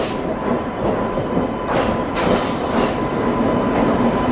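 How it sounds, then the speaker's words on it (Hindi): The New Delhi–Howrah Poorva Express rolls into platform 14, a steady low rumble of wheels and carriages with faint rhythmic clatter and a few hissing brake swells, no voices. "अब जाकर के अपनी न्यू दिल्ली हावड़ा पूर्वा एक्सप्रेस को लगाया जा रहा है प्लेटफॉर्म क्रमांक 14 पर।"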